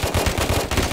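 Submachine gun fire in the video game Afterpulse, a rapid, steady burst of close, loud shots at a fast even rhythm that runs unbroken for about a second.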